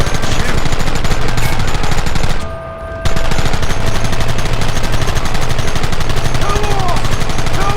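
Gunfire in the western video game Red Dead Redemption, a loud, near continuous volley of rapid overlapping shots that drops out briefly for a moment before the relentless firing resumes.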